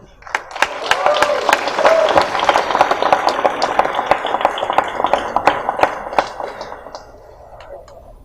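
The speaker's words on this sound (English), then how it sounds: "That's an applause that's coming to him decades later." An audience applauds, with many hands clapping loudly and close, swelling quickly and then thinning out as the clapping fades.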